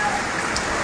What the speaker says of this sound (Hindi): बारिश हले पई तेज़ टंडे केसर में ॾिसो पिया दोस्त